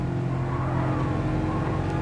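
Subaru WRX engine in Gran Turismo Sport, accelerating down a long straight. The inline-four drone is steady and continuous, loud and close, with no voices over it.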